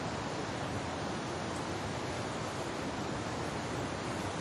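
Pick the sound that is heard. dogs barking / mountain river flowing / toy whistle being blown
mountain river flowing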